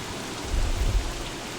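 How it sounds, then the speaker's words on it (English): Steady rain in a video game, heard as a dense, even hiss with a low rumble swelling slightly in the middle, with no voices over it. "Oh God, it's raining."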